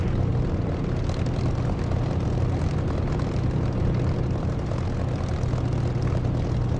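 A steady, dense helicopter rotor-and-engine drone in the flight simulator DCS continues throughout at an even, loud level, with no voices.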